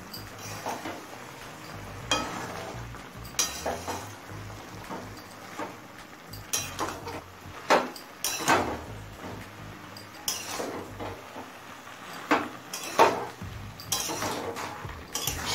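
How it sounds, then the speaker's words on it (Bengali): A spoon or spatula scraping and clinking in a frying pan while spinach is stirred into gourd and other vegetables, giving irregular metallic knocks and rustles up close, with no voices. "এবার সবজির সাথে পালং শাকটা মিশিয়ে নেব।"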